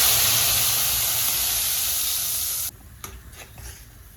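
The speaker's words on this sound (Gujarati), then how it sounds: "આ ટમેટો અને ડુંગળીની ગ્રેવી છે એને આપણે એડ કરી દઈશું" Tomato and onion gravy goes into a hot pan of oil with cumin and asafoetida for palak paneer. The loud, steady sizzle cuts off sharply into quieter bubbling with a few scattered clinks.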